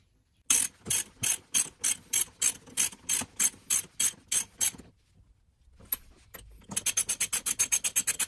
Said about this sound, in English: 21 mm socket to tighten up the top section